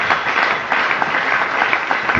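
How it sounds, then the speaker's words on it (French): A church congregation applauds the Lord during a teaching service, a dense, even wash of clapping from many people, steady and fairly loud throughout. "Est-ce qu'on peut acclamer le Seigneur des Seigneurs?"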